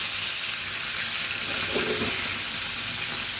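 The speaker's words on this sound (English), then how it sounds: "So one side they are already fried nicely." Goan recheado-masala tarle fish fries in very hot oil, a loud, dense, continuous sizzle heard up close, with no voices.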